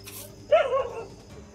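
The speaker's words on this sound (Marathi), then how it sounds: "कुत्री सारखे तिकडे बघून भुकते" A farm dog barks in a short burst of two or three yaps in rural surroundings, fairly close and standing alone over a quiet background.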